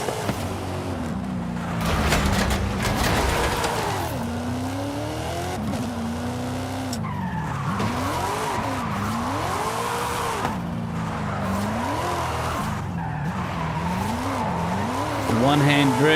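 Car drifting in Forza Horizon 5 on a steering-wheel setup, engine revving and falling in sweeping pitch bends while tires squeal and skid through repeated slides, loud and continuous with a voice talking over parts.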